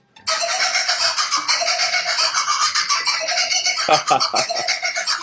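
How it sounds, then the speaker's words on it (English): Kookaburra, the Australian kingfisher, letting out its laughing call in a sped-up, high-pitched form: a continuous, loud chattering cackle with rapid rhythmic pulses that runs the whole time, and a few sharper bursts near the end. "It was actually the sped up laughter of the kookaburra"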